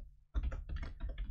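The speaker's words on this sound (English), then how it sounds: "So we have to type here," Keystrokes clatter on a computer keyboard during Unity game coding, a quick irregular run of close, fairly loud clicks after a brief quiet start, with no talking.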